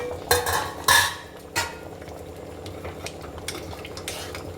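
A spoon stirs ridge gourd dal with tomato in a pot, sending a couple of sharp metallic clinks and scrapes early on, then softer irregular stirring over a low simmering hiss, with no talking.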